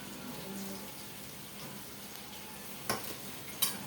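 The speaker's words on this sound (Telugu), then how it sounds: "తర్వాత కట్ చేసిన ఉల్లిగడ్డలు వేస్తున్నా." Chopped onions go into hot oil in a home kitchen pan and fry with a low, steady sizzle. Two sharper stirring or scraping clatters come near the end.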